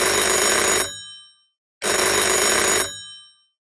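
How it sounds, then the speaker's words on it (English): A telephone rings with an incoming call: two loud, sustained electronic ring bursts separated by a short silence, close and alone. "Ethan's phone call came late on a Wednesday night"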